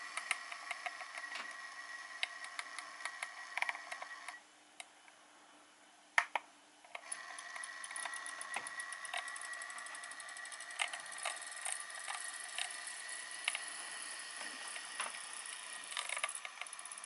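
A small Roco diesel model locomotive motor driven by a Lenz Silver Direct DCC decoder gives a faint, steady high whir with tiny clicks, dropping out briefly partway through before resuming.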